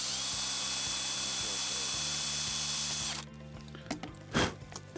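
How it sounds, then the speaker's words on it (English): A power drill whirs steadily, boring a hole in a small metal tank for a miniature smoke machine, then cuts off partway through, leaving a few clicks and handling knocks close by. "This will stop the drill slipping when we drill a hole."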